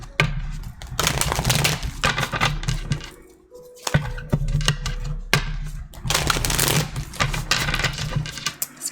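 Tarot cards being shuffled, with bursts of crisp riffling and flicking separated by short pauses, close and fairly loud against a low steady hum.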